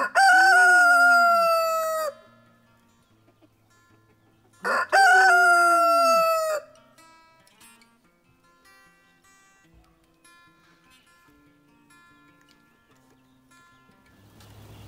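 A rooster crows loudly twice in a row, close by, followed by quieter scattered clucking and faint farmyard sounds.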